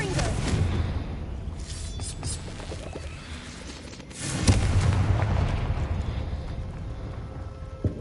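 A Confringo blasting spell explodes in a Harry Potter wizarding video game, a deep rumbling blast that swells midway and lingers over a dense low background roar.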